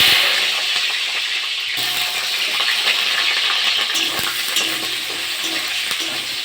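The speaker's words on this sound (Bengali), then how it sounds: "তেলটা গরম হয়ে গেছে, আলুগুলো ভেজে নেব" Potatoes frying in hot mustard oil in a kadai, a loud, continuous close sizzle with crackling spatters and occasional stirring knocks throughout, with no voices.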